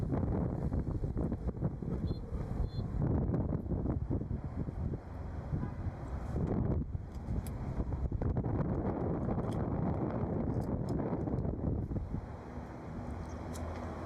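Wind buffets the microphone outdoors at a Buc-ee's in heavy, rumbling gusts that rise and fall throughout, loud and close, with no talking.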